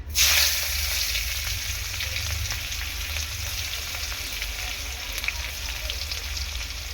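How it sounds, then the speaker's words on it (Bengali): Onions dropped into hot oil for a catla fish curry with potato and tomato burst into a loud, steady sizzle that holds evenly throughout, close and unbroken. "তো তেল এখন গরম হয়ে গিয়েছে দিয়ে দেবো পেঁয়াজ"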